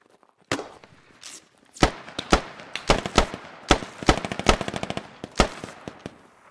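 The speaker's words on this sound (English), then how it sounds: "you see him shooting over this wall in the next building" Bursts of enemy gunfire in the Squad military shooter crack out as a rapid, uneven string of loud, sharp shots, some close together like automatic fire, with no talking over them.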